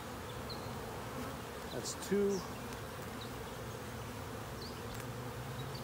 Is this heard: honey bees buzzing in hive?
yes